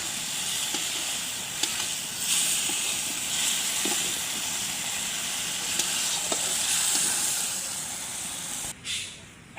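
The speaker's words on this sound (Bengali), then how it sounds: "এখন মাছগুলো দিয়ে দেবো। মাছগুলো কিন্তু এই মশলাতেই কষিয়ে নেব।" Koi fish going into a sizzling turmeric-free spice paste in a pan for a koi and taro curry, a steady close hiss of frying with a few soft clinks, cutting off briefly near the end.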